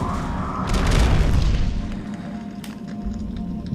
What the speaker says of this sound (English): They're all exploding.